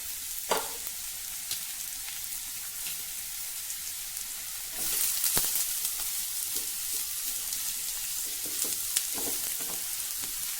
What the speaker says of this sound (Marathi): ह्या तेलावर आपल्याला हे ढेमसे पहिले परतवून घ्यायचे आहे